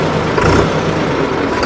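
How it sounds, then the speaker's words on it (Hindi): A naturally aspirated 3630 tractor engine runs steadily nearby, giving a continuous loud rumbling drone with no talk over it. "दोस्तों अभी तक आप लोगों ने ट्रैक्टर की आवाज़ भी सुन ली"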